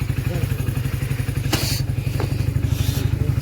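A motorcycle being ridden, its engine thrumming in a steady pulsing drone close by, with a couple of short clattering knocks and scrapes over the top.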